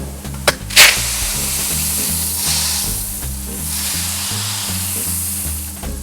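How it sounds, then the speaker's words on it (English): Freshly roasted coffee beans pour from a roaster chute, giving a steady loud sizzling rush that begins with a couple of sharp knocks and runs continuously over a low rhythmic machine hum. "if you want to see them drop from the chute, here we go"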